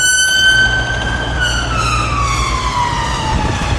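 Emergency siren wailing in a street, a loud sustained tone that sweeps and slowly falls in pitch as the vehicle passes by, heard alone over low traffic rumble.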